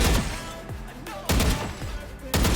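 Short bursts of gunfire in Valorant, three sharp clusters of shots spaced about a second apart, loud and close.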